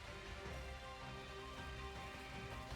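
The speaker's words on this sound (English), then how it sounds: "It's a shame it's raining." Rain falling in the Pokemon Shield video game, a soft, even hiss of rainfall that holds steady throughout with no other distinct sounds.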